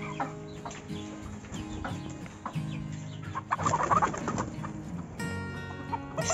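Backyard hens clucking in short, scattered calls, with a louder burst of clucking and flapping midway, set against steady farmyard background noise.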